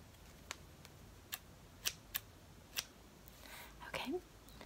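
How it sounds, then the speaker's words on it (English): Scissors trim freshly brushed hair in a quiet, close setting, giving a slow series of soft, sharp snips spaced about half a second apart, with faint rustling near the end. "So your hair is now all brushed and ready, and I'm going to begin the trim."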